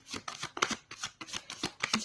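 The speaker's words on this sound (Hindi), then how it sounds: "एक बार और शफल करूंगी मैं।" A deck of playing cards is shuffled over and over in rapid riffling bursts, each lasting a fraction of a second, close and fairly crisp, with no talking.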